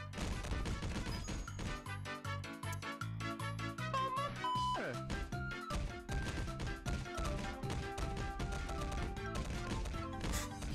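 Ragdoll physics impacts in a Super Mario 64 romhack: a rapid, continuous barrage of thuds, smacks and crashing impacts, like bodies tumbling and colliding, packed densely from start to finish.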